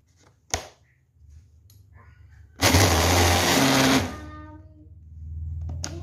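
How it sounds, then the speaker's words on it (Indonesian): A kitchen blender purees pandan leaves with 250 ml of thick coconut milk for a steamed pandan sponge cake, a loud steady whirring burst of about a second and a half after a sharp click, then a softer hum. "Sekarang ini mau saya haluskan dengan menggunakan blender."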